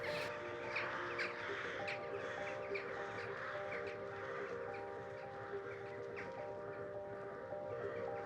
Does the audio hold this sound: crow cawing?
yes